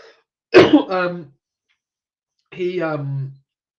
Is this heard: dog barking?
no